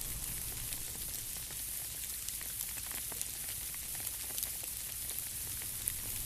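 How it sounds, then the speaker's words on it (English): Fine particles of sleet and ice patter steadily through pine trees onto a bed of pine straw on the ground, a dense, soft crackling hiss that stays constant and even throughout, with no voices. "You can hear the small particles of ice and sleet falling between the pine trees as they land on a bed of pine straw on the ground below."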